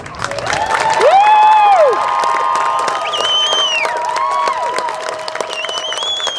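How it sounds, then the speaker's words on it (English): Graduation-ceremony crowd at Pomona High School in Arvada, Colorado, bursting into sustained applause with cheering and whoops, loud and continuous throughout, with shrill shouted calls rising above the clapping. "Join me in moving your tassel from the right to left with the applause from our parents, family, and friends"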